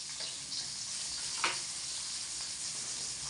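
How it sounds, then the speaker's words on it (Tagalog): Soft, steady sizzling of fish frying in a pan, continuous and fairly quiet, with one faint clink partway through. "magprito-prito na tayo isda kagaya kahapon"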